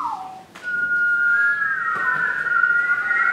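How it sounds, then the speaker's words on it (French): Several people whistle together in a music class, a sustained steady tone that holds and rises slightly in pitch, loud and close, with a short whistled phrase at the start and no talk. "Donc tout le monde va siffler, comme ça, avant."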